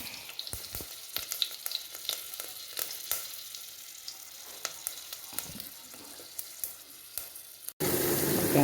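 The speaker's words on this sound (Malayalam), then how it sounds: "ലീഫ് മുറിച്ചിട്ടു ഇനി സബോള ഇട്ട് കൊടുക്കാം" Onions fry in a pan with a soft, close crackling sizzle dotted by scattered pops and utensil taps, then a sudden loud burst of hiss at the very end.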